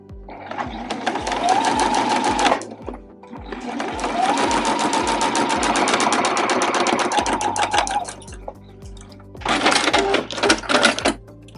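A sewing machine runs rows of stitching across fabric-scrap strips on batting for a zipper pouch, whirring in three long close runs with a short pause between them.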